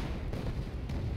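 Anti-aircraft guns fire in the War Thunder air combat game, a dense low rumble of rapid distant bursts blending into a steady booming roar over about a second.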